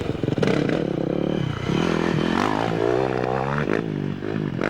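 Yamaha YZ400F four-stroke motocross motorcycle engine revving hard and steadily, its pitch climbing and dropping through several throttle changes, loud and close throughout.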